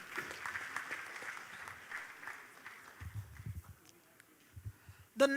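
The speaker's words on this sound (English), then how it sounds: "Please, a round of applause for her." An audience at a forum applauds a panelist. The clapping rises and thins over several seconds, then quiet thumps and a voice follow near the end.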